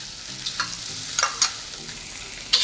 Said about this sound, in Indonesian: Lalu kita tumis yokonya dulu ya.